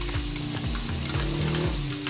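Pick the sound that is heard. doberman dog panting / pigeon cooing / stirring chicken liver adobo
stirring chicken liver adobo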